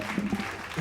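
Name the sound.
audience applause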